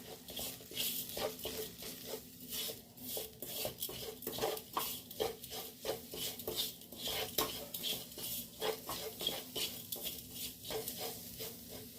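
A spoon clinks and scrapes against a bowl in rapid rhythmic strokes while samosa potato-filling spices, garam masala, chili powder, salt and sugar, are mixed together, heard up close with no talking.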